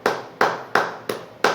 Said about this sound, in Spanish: 15 segundos para que des un aplauso fuerte al Señor